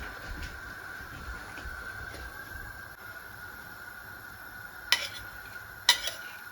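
A spoon stirs simmering curry in a metal cooking pot, with a faint continuous bubbling and scraping under low background hum, then two sharp metallic clanks near the end.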